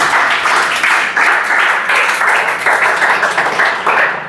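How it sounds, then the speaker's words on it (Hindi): A class claps together in loud, rhythmic bursts, a room of hands beating in fairly regular pulses that carry on without pause for several seconds. "ताली बजाओ इसके लिए"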